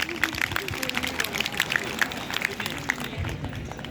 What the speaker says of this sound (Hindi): तो मेरे लिए थोड़ी तालियां तो बजा दो यार।